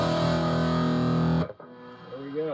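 An electric guitar plays through a Bugera 6262 Infinium amplifier with the reverb turned all the way up: a sustained distorted chord cuts off sharply, leaving a lingering reverb tail before a few new bending notes sound.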